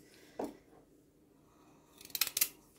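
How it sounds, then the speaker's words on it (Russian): A single soft knife thud, then a quick burst of crisp cutting strokes close by as carrots are cut into thin strips, with near silence between. "я режу морковочку тоже на мелкую соломку"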